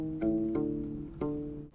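A U-bass plays a short, soft line of a few plucked notes from a song, each warm low tone sustaining before the next, close up with nothing else audible.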